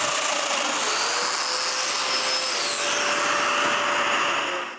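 A power drill bores mortises into wooden pieces for a band saw made of wood, giving a continuous whirring drone at fairly close range that holds steady for several seconds and then cuts off.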